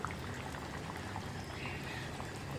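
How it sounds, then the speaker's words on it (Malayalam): Sardine curry with mango bubbling in a pot as the fish goes in, a faint, even simmering burble that carries on without a break, with no speech. "ഇനി നമുക്ക് മീൻ ചേർത്ത് കൊടുക്കാം"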